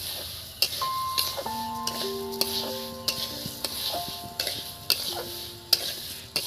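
Sugar being stirred into syrup for murali sweets, with a spoon repeatedly scraping and tapping against the pot in a steady rhythm, close and fairly quiet, alongside a faint tonal chime in the background.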